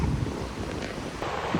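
Waves wash up on a beach in a continuous rushing surf, heavily mixed with wind buffeting the microphone and a brief swell near the end.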